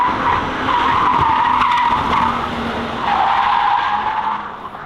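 A car slides through a corner with a long, loud tire skid and squeal over engine noise that surges and fades, without any voices.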